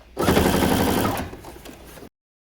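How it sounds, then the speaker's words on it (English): A sewing machine stitches across a button-down shirt cuff in one loud, close, steady mechanical run of about two seconds, then stops abruptly into silence. "switch to a regular length stitch now, and I'm just going to start, back stitch, and then sew all the way across"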